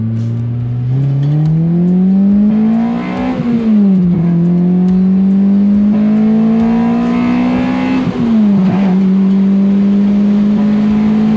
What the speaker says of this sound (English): when you're getting on the highway, be sure to safely accelerate to the traffic speed